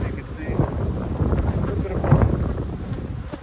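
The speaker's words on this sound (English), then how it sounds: "there's a wind gust there" Wind gusts rumble across the microphone outdoors beside an abandoned bee hive being inspected, a low blustery roar swelling and easing under a speaking voice.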